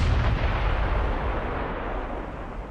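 Enemy naval artillery fire in the warship game Ultimate Admiral Dreadnoughts: a heavy, deep boom opens loudly, then fades into a long, rolling low rumble.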